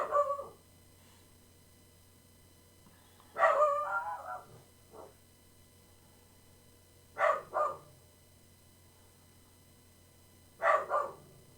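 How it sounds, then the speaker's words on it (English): Oliver, a pet dog, lets out short bursts of barking indoors, four separate outbursts spread several seconds apart, some a double bark, close and fairly loud over a faint steady background hum. "Oliver hears a noise, so he's barking at it."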